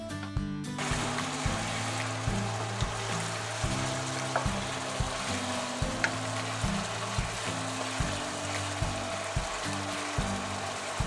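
Onions and mushrooms sauté in a pan, a soft continuous sizzle running under a repeating low rhythmic thumping with occasional light clinks.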